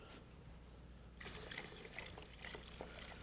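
Seafood stock pouring into a cooking pot, a soft steady liquid stream that starts partway in and continues with small splashy trickles, fairly quiet and alone.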